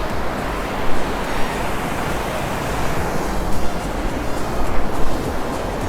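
Water rushes and crashes loudly and steadily at Kempty Falls in Mussoorie, a dense, close roar of falling water with no voices.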